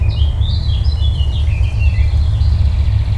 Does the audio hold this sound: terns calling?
yes